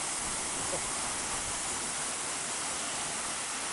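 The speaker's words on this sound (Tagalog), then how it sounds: "Ganda ng falls. Yan ang Agbalala Falls." Agbalala Falls in Abra de Ilog, Occidental Mindoro, gives a steady, dense broadband rush of falling water, loud and constant throughout with no voices heard.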